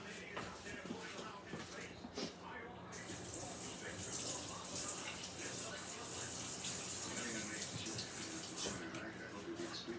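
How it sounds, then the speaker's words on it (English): Running tap water pours steadily over a kitchen knife being rinsed, a close continuous splashing gush that swells louder midway, with brief handling noises around it. "rinse my knife"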